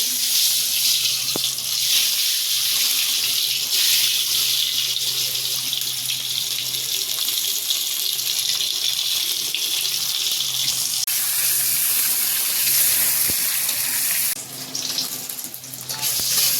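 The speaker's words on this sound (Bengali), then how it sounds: "ডিমগুলো একটু আমি লাল লাল করে ভেজে নেব।" Eggs fry in oil until reddish-brown with a continuous loud hiss and crackle, close up and steady, easing briefly near the end.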